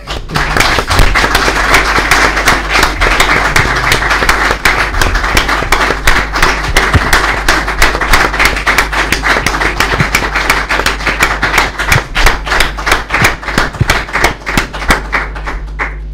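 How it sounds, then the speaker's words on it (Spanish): A room full of people applauds, steady dense clapping that continues loudly for about sixteen seconds without talk. "creo que quieren darte un aplauso"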